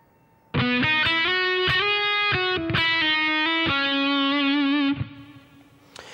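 Distorted electric guitar plays a solo phrase from a song, bright sustained notes with slides and bends ringing loudly for about four seconds before fading, with no voice.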